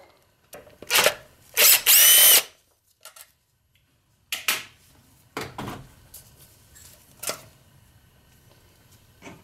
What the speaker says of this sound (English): I'm gonna unscrew the idle control valve